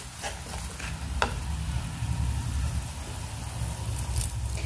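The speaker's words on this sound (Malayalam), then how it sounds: "എല്ലാം കൂടെ നന്നായിട്ട് വഴറ്റിയെടുക്കാം." Quail egg pickle masala sautéing in a pan, a steady close sizzle with stirring scrapes and a few sharp clinks throughout, no voices.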